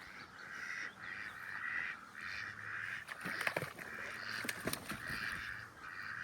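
African runner ducks at a campsite give repeated harsh nasal calls in rhythmic bursts, moderately close, with scattered clicks and rustles over a faint background.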